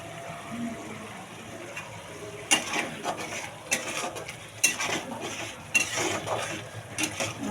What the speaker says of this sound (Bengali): মশলাটা অনেক সুন্দর করে কষিয়ে নেব